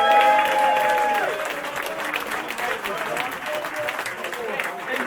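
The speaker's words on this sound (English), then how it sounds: "Well done, guys. Round of applause." Applause from a crowd gathered at a Two Ball Rally presentation, steady and fairly loud across the whole stretch, with some tonal sounds and voices mixed in near the start.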